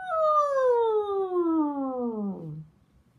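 A voice imitates car tires screeching as they take a corner too fast. The single drawn-out squeal slides downward in pitch for about two and a half seconds and then fades out.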